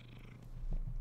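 A cat purrs close by with a low, rumbling, continuous vibration that is quiet but steady and swells slightly toward the end.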